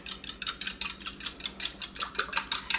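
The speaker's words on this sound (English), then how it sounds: "And then I'm going to whisk those." Eggs are whisked in a bowl for peach scone batter, a fast steady rhythm of bright metallic taps against the bowl, close and fairly loud, with no talking.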